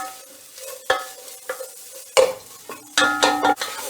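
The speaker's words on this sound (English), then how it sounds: "add your onions, cooking for a few minutes to soften" Onions softening in a pan for a meaty stew, with intermittent clattering stirs and scrapes of a utensil over a low, patchy sizzle, the bursts close and uneven.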